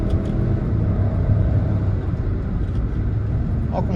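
A Hyundai HB20 with a 1.0 turbo engine and automatic transmission drives along, its engine and road noise a steady low rumble heard from inside the car.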